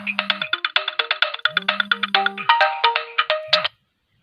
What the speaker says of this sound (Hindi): सॉरी बेटा, फोन आया था।